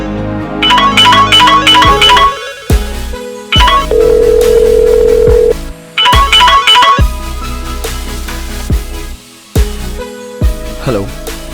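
An outgoing phone call rings back with a loud, repeating ringtone melody, with bursts of tones cut by short pauses and no talking.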